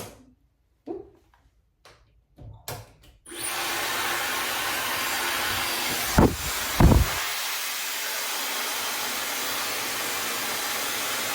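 Hair dryer on low heat drying hair, a few soft handling knocks and bumps, then a steady close airflow roar switches on and runs continuously, with two brief louder gusts in the middle.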